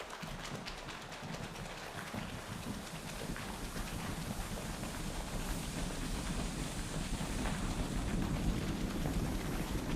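A storm rumbles with a steady wash of rain and low thunderous growl, a dense, even roar that swells slightly louder over ten seconds, distant-sounding and without voices.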